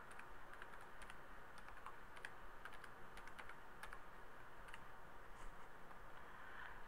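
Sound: typing a batch name on a computer keyboard

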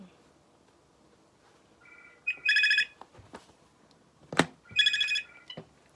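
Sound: phone ringing

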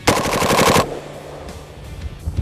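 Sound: FAL rifle firing full auto in the ice

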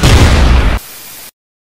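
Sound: shooting down a flying magical pony, cartoon explosion

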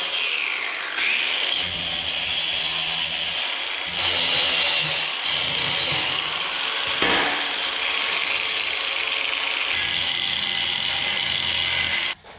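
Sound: grinding slag and angles off a welded metal reindeer

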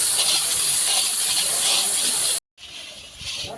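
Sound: spice paste being sautéed in a pan

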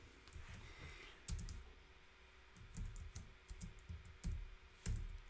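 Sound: typing an entry on a computer keyboard

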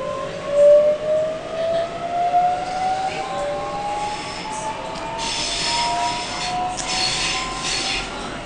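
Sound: Sydney train riding from Central to Circular Quay

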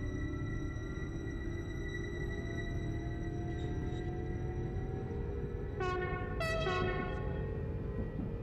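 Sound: horn of a Flirt 3 train in Train Simulator video game

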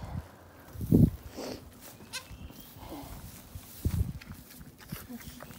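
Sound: newborn billy goat kids bleating

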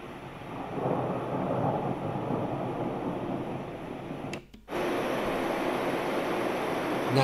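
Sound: thunder

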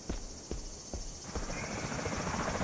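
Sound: helicopter arriving for airlift in VR video game Island 359

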